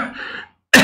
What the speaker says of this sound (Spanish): me vino una tos.